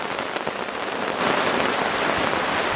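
Heavy rain downpour on a lake portage trip, a dense, continuous roar of drops hitting surfaces, loud and steady throughout.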